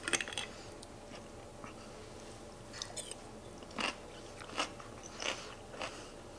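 Crunchy bites of stir-fried snap peas and carrots from a ginger orange chicken stir fry, a few crisp close chews spaced out over the clip, with no talking.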